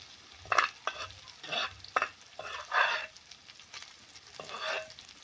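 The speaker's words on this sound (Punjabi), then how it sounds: "ਹੁਣ ਆਪਾਂ ਇੱਥੇ ਪਾ ਦਾਂਗੇ ਜੀ ਟਮਾਟਰ ਟਮਾਟਰ ਨੂੰ ਵੀ ਆਪਾਂ ਦਰਦਰਾ ਕੁੱਟ ਲਿਆ ਸੀ" Crushed tomatoes go into frying onion masala with ginger and garlic in a pan, sizzling loudly in several bursts while being stirred, with no talking.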